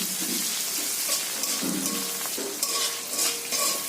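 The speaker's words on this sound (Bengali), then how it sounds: "টমেটোটা মশলার সঙ্গে ভালো করে কষানো হয়ে গেছে" Tomato fried with spices in a pan for a fish-head moong dal, with a steady close sizzle broken by repeated scraping stirs of the spoon and no talking.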